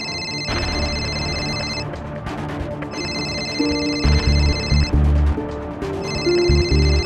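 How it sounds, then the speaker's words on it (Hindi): A phone rings with an incoming call in a doctor's clinic, its melodic ringtone repeating in three bursts over low background music and occasional thuds. "सर, आपके वाइफ का फोन आ रहा है।"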